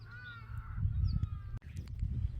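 Birds call on Crescent Island in Kenya, a few harsh caws and thin cries over steady wind rumble outdoors, fairly faint and brief with no voices.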